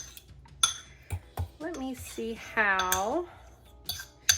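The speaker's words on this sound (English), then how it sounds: "So I'm gonna just keep whisking and whisking and whisking." A fork whisks chaffle batter in a dish with sharp, scattered clinks and taps against the dish, while a voice speaks briefly in between.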